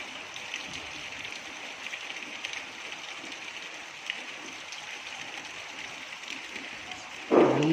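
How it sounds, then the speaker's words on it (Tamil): Steady rain pours down on a Tamil village home with betel vine after a lightning storm, a dense even hiss throughout, ending in a sudden louder splash or patter close by. "நல்ல மின்னல் அடித்து மழை பெய்ஞ்சுதுங்க"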